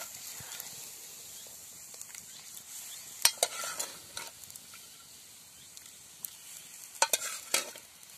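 Mutton masala sizzles quietly in a pan on a wood-fired chulha while a utensil stirs and scrapes it, with a few sharper clinks along the way.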